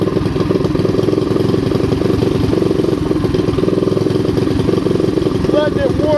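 Vintage custom mini bike engine idling steadily on its own at close range, a continuous loud chugging with a faint whistling tone rising near the end.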